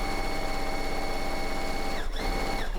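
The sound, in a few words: sewing machine stitching fabric edge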